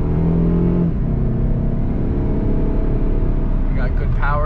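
A 250,000-mile Saab 9-5 Aero accelerating, a steady loud engine drone that builds continuously under the cabin, with a voice talking over it near the end.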